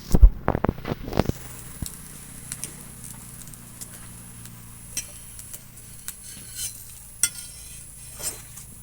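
Bread slices fry in oil on a hot tawa, with a few clattering placements at the start followed by a soft, steady sizzle and scattered light ticks.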